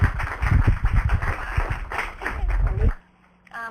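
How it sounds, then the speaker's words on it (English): Audience claps for a presenter at a chapter meeting in Los Angeles, loud, close hand claps with thuds that stop abruptly, followed by near silence and a faint tone. "Let's give her a round of applause."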